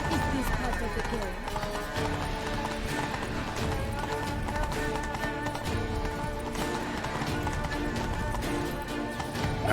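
Roach, a horse in a video game, galloping with rapid, steady hoofbeats close by, under loud overlapping game voices and a background score.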